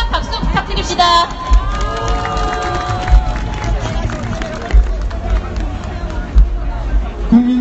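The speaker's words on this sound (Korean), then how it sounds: "힘찬 박수 부탁드립니다." A large crowd at a candlelight rally in Gwanghwamun Square cheers and applauds loudly and continuously, with shouting and babble mixed into a dense wall of noise.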